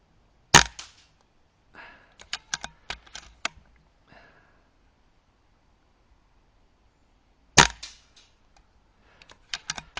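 Air Arms Field air rifle loaded from a magazine fires at an HFT field target, giving two sharp reports several seconds apart, each trailed by a brief cluster of small metallic clicks and clacks from the target.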